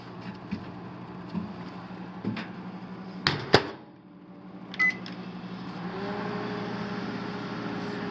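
A microwave oven with a broken light runs with a steady low hum, broken by a few sharp clicks and knocks, then a faint rising tone.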